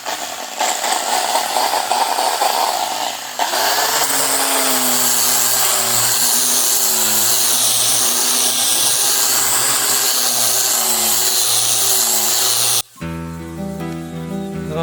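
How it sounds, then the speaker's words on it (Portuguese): An electric sander works over old timber while a farm structure is being built, giving a loud, steady grinding whine for about thirteen seconds before music abruptly takes over. "agora vou pegar lá a lixadeira com a lixa"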